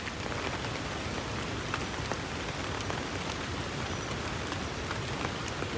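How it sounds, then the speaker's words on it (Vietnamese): Heavy rain pouring in the jungle, heard from inside a shelter: a dense, steady roar of drops drumming on surfaces throughout, even and unbroken, with no voices. "Ở ngoài giờ là mưa dữ lắm luôn rồi nè"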